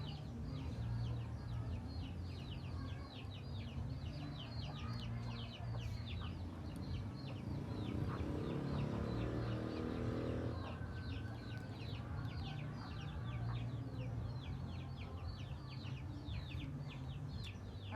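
Chickens cluck continuously in repeated chattering calls, fairly near, over a dense low rumble of background noise with no talking.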